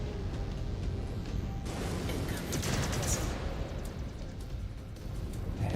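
Dense, rapid autocannon fire from battling mechs in Mechwarrior 5: Clans, a loud continuous barrage of overlapping bursts and blasts that swells midway and keeps rolling to the end.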